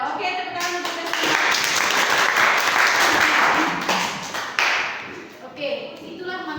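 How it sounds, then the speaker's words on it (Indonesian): Students in a classroom clap for a classmate after a school counseling session on managing emotions, a short burst of close, loud clapping mixed with taps and thumps that rises and then tapers off. "tepuk tangan untuk Desti"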